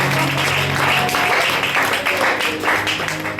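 A church congregation applauding, loud sustained clapping from many people filling the room, with a voice speaking underneath.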